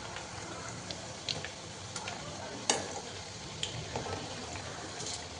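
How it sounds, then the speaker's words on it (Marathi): Chakli, a crisp spiral snack, deep-frying in hot oil over medium heat: a dense continuous sizzle and bubbling with a few soft scrapes and clicks of a slotted spoon, close and steady. "तर ही अशी चकली मीडियम गॅसवरती आपण तळून घेणार आहे"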